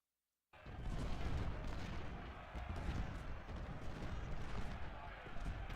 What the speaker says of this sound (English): I really want to get rid of some of that artillery, because it's gotten in close enough that it's just devastating those units in the fort.